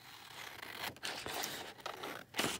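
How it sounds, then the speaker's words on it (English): Scissors snip through a book page in a few short, quiet cuts with soft paper rustle and scraping between them, close and alone without talk. "Right, let's cut this one down."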